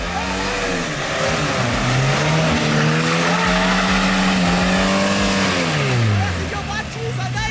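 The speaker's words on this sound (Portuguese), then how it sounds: "Rapaziada, o último drift." A Chevrolet Chevette drifting, its engine held at high revs with a long sustained tire squeal that rises and falls as the car slides, loud and close, with voices heard over it.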